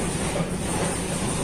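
A Supervia train rumbling past, heard from aboard a Série 300 train: a continuous, even roar of rail noise and hiss throughout, with no talking.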